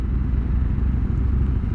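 A 2022 Harley-Davidson Sportster S engine gives a steady, loud, low rumbling drone close by, holding an even throttle level throughout with no talk over it.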